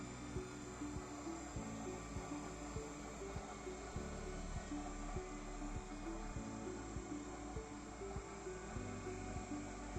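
An induction generator's prime mover hums and whines steadily as it speeds up to 2500 rpm, a droning machine tone with regular rhythmic pulsing, moderately loud and continuous.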